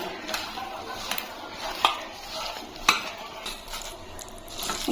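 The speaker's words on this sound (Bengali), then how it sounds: "এখন আমি সবগুলো উপকরণ ভালো করে মেখে নেব।" Cabbage recipe ingredients with grated ginger, nigella seeds and coriander leaves being mixed by hand in a bowl, giving soft irregular clinks and rustles with a few sharper knocks, moderately close and without talk.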